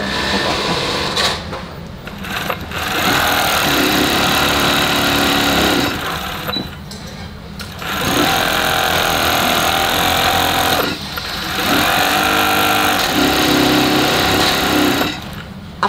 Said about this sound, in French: Là, c'est une machine qui va venir poser le biais.